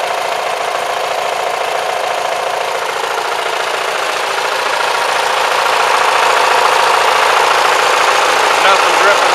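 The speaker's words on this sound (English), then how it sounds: "I haven't given it any gas yet, it's just idling" Riding mower engine idling on fuel vapor with no throttle applied, a loud, steady, close-up mechanical drone with a fast even pulse, holding constant throughout with no talking over it.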